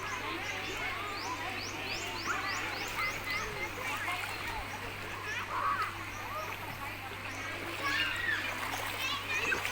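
People splash and play in a clear, cool stream at a busy outdoor spot, with steady water noise, children's voices and birds chirping throughout, all at moderate distance.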